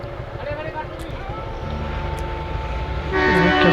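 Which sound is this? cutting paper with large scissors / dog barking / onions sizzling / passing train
passing train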